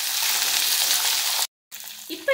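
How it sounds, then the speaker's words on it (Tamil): Curry leaves sauté in a pan for chutney, a loud steady sizzle and crackle that cuts out briefly to silence, then resumes with a sharper spatter at the end. "கருவேப்பிலை சேர்த்து இதையும் நல்லா வதக்கி விடுங்க."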